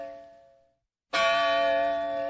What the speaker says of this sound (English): the church bells in the town square struck 7 o'clock